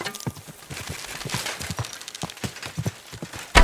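Horse hooves clip-clop in the game Kingdom Come: Deliverance II during mounted riding, a quick run of close, distinct hoofbeats ending with a sudden louder thump, no voices.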